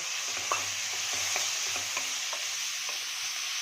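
Chopped carrot, capsicum and tomato stirred into sautéed onion in a pan for upma make a steady sizzle, with soft, irregular scrapes and clinks of the spoon throughout and no voices.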